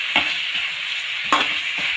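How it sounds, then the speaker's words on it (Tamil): Steady sizzling in a hot pan with a few scraping strokes of a spoon stirring bitter gourd with chili powder, close and continuous. "இப்போ இந்த மிளகாத்தூள் போட்டுட்டு இது பரட்டி விட்டு கொஞ்சம் போல் தண்ணி சேர்த்துக்கலாங்க"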